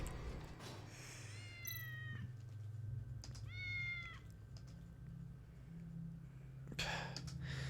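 Cat in the video game Tales of the Neon Sea meowing in a few distinct drawn-out calls, clear and close over a low steady background hum.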